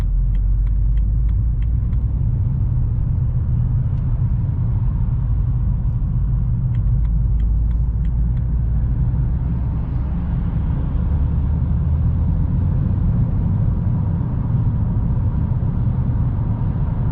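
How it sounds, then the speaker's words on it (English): Road traffic heard from inside a moving car, mostly a deep, continuous rumble of tires and engine with a few faint higher clicks early on. There is no talking. "So much traffic even though it's a weekend."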